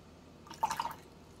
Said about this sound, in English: Now wash your brush, wipe off the excess water.